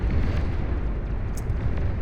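A massive explosion in the real-time strategy game Beyond All Reason fills the scene with a dense, sustained low rumble and roar that stays loud throughout, with no voices over it.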